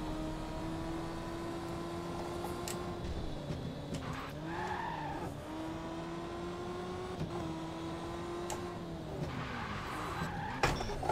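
Race cars in the arcade-style racing game Victory: The Age of Racing skid with long tire squeals over a droning, shifting engine note, continuous and fairly loud, with no talk.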